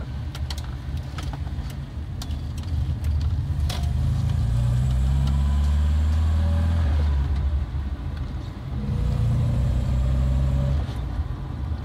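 A Volvo 121 B20 engine idles and revs steadily nearby, a low continuous rumble swelling and easing, with faint rattles and clicks on top.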